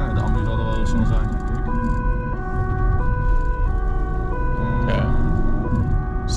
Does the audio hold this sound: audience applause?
no